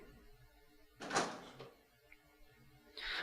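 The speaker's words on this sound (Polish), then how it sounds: "idziemy do drzwi, które były wcześniej zamknięte, ale za chwilkę staną przed nami otworem" A door in Resident Evil 3: Nemesis creaks and swings open with a loud wooden scrape and thud, followed by a short quieter knock and another rush of noise as it finishes, set against a low ambient hum.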